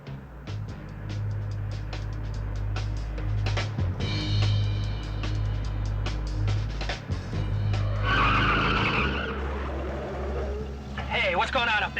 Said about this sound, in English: My brakes are locking once in a while.